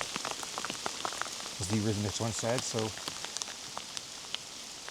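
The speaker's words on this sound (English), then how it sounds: "And here comes the rain again" Steady rain falls outdoors in a continuous hissing patter with scattered close drops, while a person briefly speaks over it partway through.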